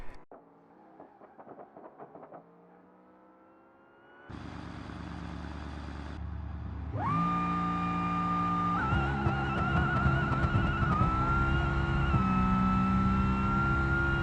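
Gabriel Grand Marshal racing car in the BeamNG driving game, engine idling low and rough, then jumping to a loud, steady high-revving roar that holds strongly, close and alone without talk.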